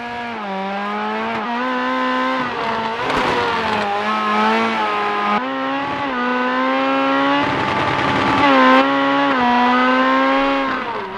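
Rallycross car in the Project CARS 2 video game, a loud engine revving and dropping through gear changes, with bursts of tire scrabble and skidding on mixed surfaces, no talk.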